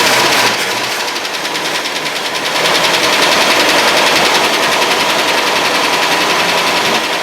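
A 1965 Ford Mustang engine, revived after 20 years in storage, runs steadily with a rapid, dense ticking rattle from the lifters, loud and close, growing slightly busier partway through.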